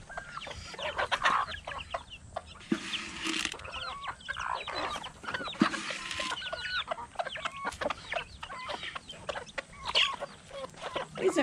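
Hens and a rooster clucking steadily while they eat, with a fairly quiet, continuous patter of short calls and pecking close by in the farmyard.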